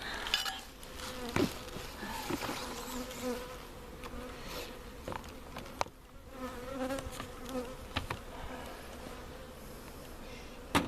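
Honeybees at a hive during pollen collection produce a dense, continuous buzzing hum that stays close and fairly even, with a few brief knocks and clinks mixed in.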